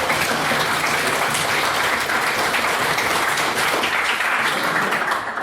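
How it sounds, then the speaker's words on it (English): An audience at an evening debate gives the speakers a round of applause, dense and steady clapping filling the hall for several seconds. "please get one more round of applause for all of our speakers this evening"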